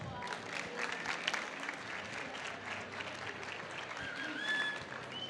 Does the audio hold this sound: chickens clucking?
no